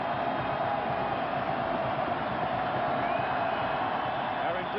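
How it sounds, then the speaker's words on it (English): A college football stadium crowd at Arizona State roars steadily during double overtime of an Oregon game, a continuous broad wash of noise with no breaks. "The crowd making as much noise as possible."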